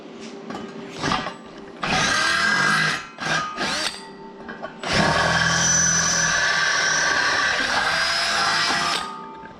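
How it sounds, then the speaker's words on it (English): A power drill whirs in several bursts, drilling holes for 3/8 bolts in the body subrails of a 1932 three-window coupe, short stops and starts at first, then one long steady run of drilling, loud and close. "just drilling holes"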